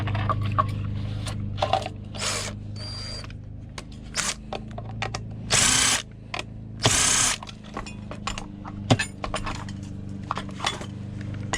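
A power drill works at scrap tablets and phones in two loud whirring bursts, set among sharp metallic clinks and rattles of parts and tools on a hard surface, with no talking.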